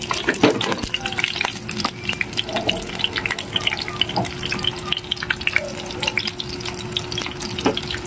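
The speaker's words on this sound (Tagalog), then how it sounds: "Pritong talong." Eggplant frying in a pan in a rustic home kitchen, a steady crackling sizzle with scattered pops and stirring scrapes running throughout at close range, with no speech.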